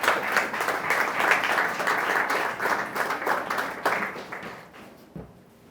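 Church congregation claps during a service, a lively burst of applause with distinct individual claps audible in the mix, fading out over the last second or so as the room quiets.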